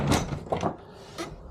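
Nuki smart lock motor turning an Ultion Euro cylinder to unlock a door, giving a few short whirring and clunking bursts close by, with the mechanism easing off between them and one last clunk.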